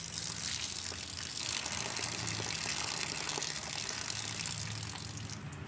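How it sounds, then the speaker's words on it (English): Water poured off steadily while an outboard motor is being flushed, a continuous close gushing and splashing that keeps going without a break. "Alright, so I'm going to pour off some of the water."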